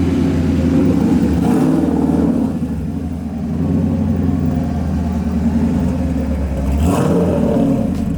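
A 1966 Ford Mustang with a 347 stroker engine rumbles loud and close, revving and pulling away, the deep engine note swelling and easing as it drives off, with no talk.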